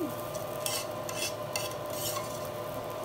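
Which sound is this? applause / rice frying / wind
rice frying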